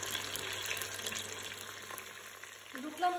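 Fish fries in a pan, a steady close sizzle with light crackle throughout, with no speech.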